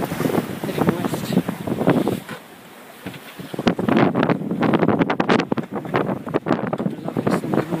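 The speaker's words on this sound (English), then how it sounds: "15 knots of wind, which is pushing us along" Wind of about 15 knots rushing over a sailboat at sea off the north coast of Spain, loud gusty buffeting against the microphone with a rumbling water wash, a brief lull midway, then renewed strong blowing.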